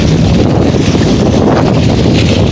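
Heavy wind buffeting the microphone at a rocky seaside fishing spot, a loud, constant low rumble with gusty roar throughout and no voices.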